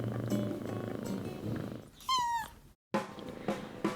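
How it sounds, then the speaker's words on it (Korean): A sleeping Maine Coon kitten purring close up, a continuous rough rhythmic rumble with a brief squeaky sound and a short gap midway. "잠자는 애기 고양이 샅샅이 살펴보는 시간"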